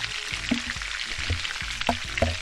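Butter with crushed garlic and bay leaves sizzling in a pan for chicken ballotines, a soft steady frying hiss broken by scattered light pops and knocks, with no voices.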